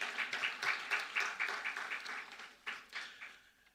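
A small audience at an alumni lecture gives a short round of applause, fairly quiet and sparse, with individual claps audible before it tapers off.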